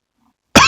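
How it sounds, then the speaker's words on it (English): A single sharp cough bursts in close and loud after a stretch of near silence, from a man working through a 1.8T 20-valve narrowband engine conversion. "coughed again"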